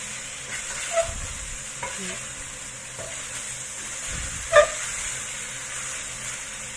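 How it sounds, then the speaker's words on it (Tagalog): Beef sizzling in a hot pan while being stirred, with scraping stirs and a few sharp clinks over a steady frying hiss. "I-fry lang natin sandali bago tayo maglagay ng sauce. Hanggang sa medyo mawala yung kulay red ng ating beef."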